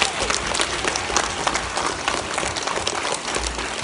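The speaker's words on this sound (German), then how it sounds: "Und einen großen Applaus für die Musiker" A school audience claps loudly for the musicians after a Telemann performance for pupils, a thick, continuous wash of applause that holds steady throughout.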